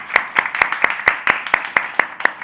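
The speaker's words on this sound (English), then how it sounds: "Let's give him a round of applause, please." Clapping at a climate accelerator demo day: about ten crisp, evenly spaced claps in a quick, steady rhythm, close and clear, with no voices over them.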